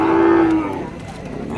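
A single loud, close cow moo at La Libertad stockyard, a long low bellow lasting about half a second that fades into quieter pen noise.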